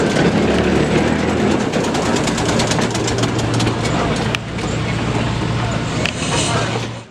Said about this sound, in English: The trolleys continue operating as if their power wasn't just coming from a 96-year-old diesel-electric